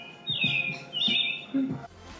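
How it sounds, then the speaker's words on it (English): Apple Watch hourly chime of chirping birds: two bright, high trilling chirps with a lower squawk-like note near the end, played through a small watch speaker, short and fairly clear. "It's birds chirping."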